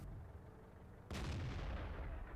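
A single sharp, booming T54E1 tank cannon blast in a video game erupts after a quiet stretch and rolls off into a rumbling decay.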